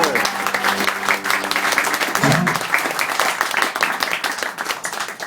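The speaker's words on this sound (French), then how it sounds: "Allez, vous pouvez d'ores et déjà vous applaudir bien fort." Crowd applause at a comedy show in a small Montmartre venue, with lively, uneven clapping from a close audience that starts over a brief voice and continues on its own.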